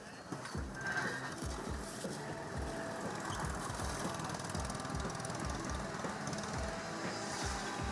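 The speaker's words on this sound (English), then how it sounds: "These two-stroke engines need to be running before they go competing, so they are doing a warm-up." Several two-stroke kart engines warming up at a motorsport event, a busy buzzing rattle of idling and blipping engines heard from some distance, steady throughout with occasional revs rising above the drone.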